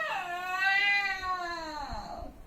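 A single drawn-out cat meow, rising then falling in pitch, close and clear against a quiet background.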